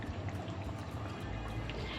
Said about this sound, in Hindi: अब मैं इसके अंदर जो है दही शामिल कर दूंगी।